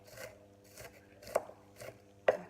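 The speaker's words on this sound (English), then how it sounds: "I'm just roughly chopping it" A kitchen knife roughly chops shallots on a board, about five soft irregular thuds with quiet cutting scrapes between them, close and fairly faint with no talk.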